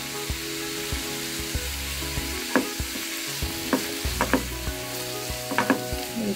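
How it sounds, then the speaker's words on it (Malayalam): Coconut pieces sauté in a pan until golden brown, filling the space with a constant close sizzle, scattered clinks of a stirring spoon and a low background hum. "ഇതിലും നന്നായിട്ടൊന്ന് ഗോൾഡൻ ബ്രൗൺ കളറാകുന്നത് വരെ നമുക്ക് ഒന്ന് വഴറ്റിയെടുക്കാം"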